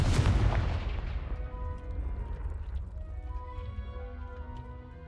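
A Confringo fire spell goes off in Hogwarts Legacy with a loud booming blast at the start, then a long rumbling tail that fades over several seconds.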